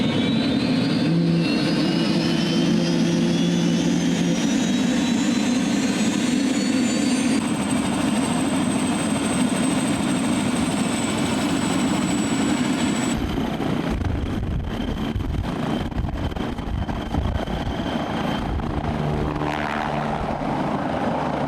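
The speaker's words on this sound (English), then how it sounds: "Best noise in aviation right here." An aircraft engine runs steadily and loudly at close range with a continuous roar and a whining tone that rises slightly and shifts partway through. It keeps on without a break, and no voices are heard.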